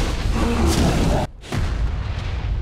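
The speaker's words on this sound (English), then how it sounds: "Here we go. Cruise missile incoming." A cruise missile blast in a video game: a loud, dense roar that cuts out abruptly into a brief near-silence, then swells back into sustained rumbling noise.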